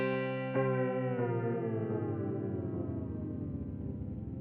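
A Meris LVX delay pedal producing a rubber-band-like effect: a guitar note whose pitch bends downward and warbles while repeating echoes stack and slowly fade, heard alone.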